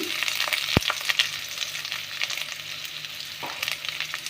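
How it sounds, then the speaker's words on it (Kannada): Chopped onion and garlic sizzle steadily in a hot pan for a tomato gojju, a dense continuous hiss dotted with small pops and one sharp crackle, close and fairly loud with no talking. "ಬೆಳ್ಳುಳ್ಳಿನ ಈರುಳ್ಳಿನ ಸೇರಿಸ್ಬಿಟ್ಟು ಈ ರೀತಿಯಾಗಿ ಫ್ರೈ ಮಾಡಿ"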